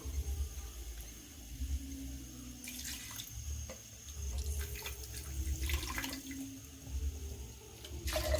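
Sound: rinsing the blender jar with water

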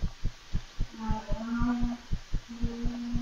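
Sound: heartbeat sound effect in the video game One Late Night

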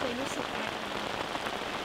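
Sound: heavy rain falling on a tent

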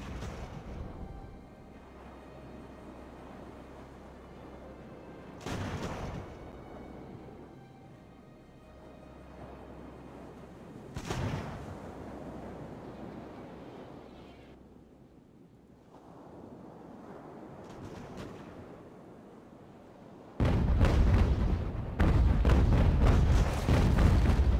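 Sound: enemy sailing ship's cannon fire in the game Ultimate Admiral: Age of Sail

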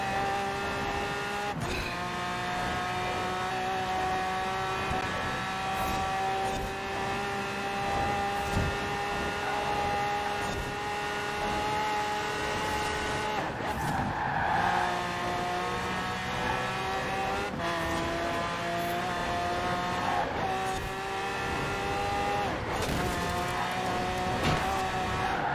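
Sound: Koenigsegg car engine in a racing video game

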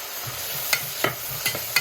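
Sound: onions and curry leaves frying in coconut oil for crab roast

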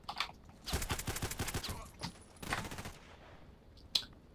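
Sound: pistol gunfire in the video game Contact Wars

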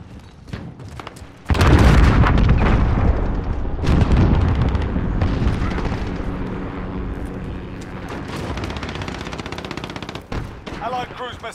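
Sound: allied cruise missile explosions in video game Call of Duty Modern Warfare

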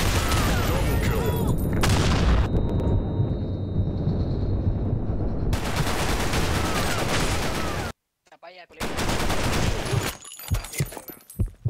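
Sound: grenade explosion and gunfire in the video game Blackshot

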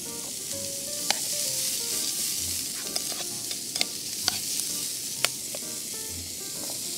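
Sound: bacon frying and being stirred with onions and celery

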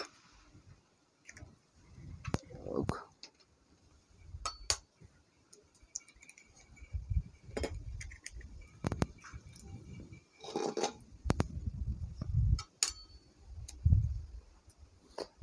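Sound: cracking eggs into a bowl

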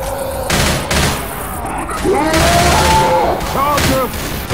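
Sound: gunfire shooting at the Tank in Left 4 Dead 2 video game

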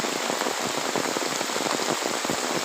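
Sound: heavy rain falling on a village vegetable garden

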